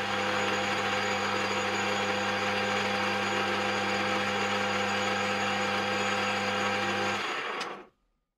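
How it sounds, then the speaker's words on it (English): A metal lathe takes a very light facing cut across a metal part, a steady whirring hum with constant tones that runs evenly and then spins down and stops near the end. "I'm going to do a very light facing cut across the whole part"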